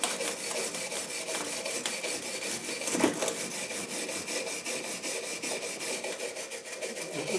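A small wire brush scrubs lifted silicone off a transfer box part on a bench, producing close, rapid back-and-forth rasping strokes in an even rhythm, with one sharper scrape near the middle.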